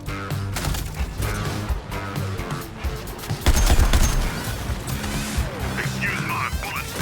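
Gunfire in a Suicide Squad action game, repeated shots and crashing impacts under ongoing game voices and effects, with a louder, heavier burst midway.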